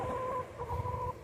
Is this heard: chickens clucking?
yes